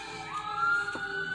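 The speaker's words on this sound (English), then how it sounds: "Sorry for the sirens out there." A siren wails in the distance, a steady rising and falling tone, faint and muffled as if heard from indoors.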